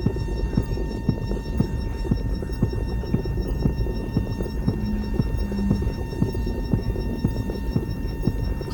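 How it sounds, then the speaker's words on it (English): A heartbeat thumps steadily in the video game The Division, with soft regular pulses under a constant droning hum. "Funny how you hear your heartbeat thumping around."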